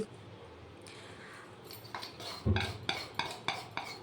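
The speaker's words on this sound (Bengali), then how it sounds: "আমি দুধের মধ্যে ঢেলে দিচ্ছি ঢেলে এটা একটুকু নেড়ে চেড়ে মিশিয়ে নিচ্ছি" A spoon stirs custard mixture into milk in a pot for fruit custard, starting quiet and then giving a run of evenly spaced metallic clinks and scrapes against the vessel.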